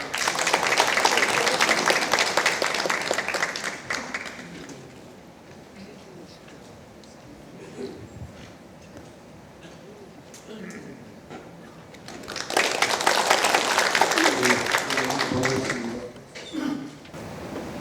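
Applause from an audience at an academic conference on the Donghak Peasant Revolution in Jeongeup, two loud bursts of many hands clapping separated by a quieter stretch of murmuring and room noise.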